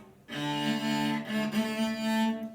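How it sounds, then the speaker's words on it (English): A cello's bowed string tone with a rough, doubled quality as the bow hits two strings together, sustained for about two seconds with slight wavering. "I didn't balance properly and I'm hitting two strings at once"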